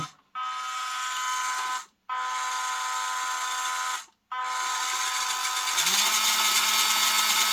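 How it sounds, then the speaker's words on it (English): The small 180 motor of a WPL C24 RC crawler whines at full throttle in three steady bursts separated by short pauses, and the last burst climbs higher and louder, with no talk over it. "That's full speed. So it's a little 180 motor in there."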